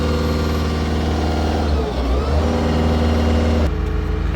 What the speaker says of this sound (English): now we're just going to hold the revs up on it